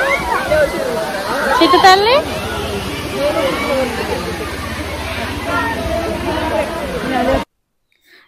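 Rushing water at Ullipitta waterfall in Asifabad, Telangana, a steady broadband wash of splashing under a lively crowd, with nearby voices talking throughout and a child's high call standing out briefly.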